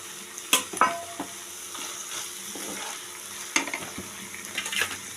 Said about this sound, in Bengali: টমেটো সস দিয়ে এবার একটু নাড়াচাড়া করে দিয়ে দেব